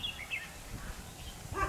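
A red-whiskered bulbul sings in a few short, faint chirping phrases against quiet outdoor background noise.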